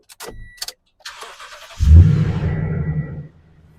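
A 2017 Toyota Tundra engine, just fitted with a new serpentine belt, cranks and catches after a few clicks, then settles into a close, steady idle rumble.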